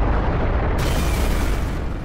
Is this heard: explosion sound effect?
yes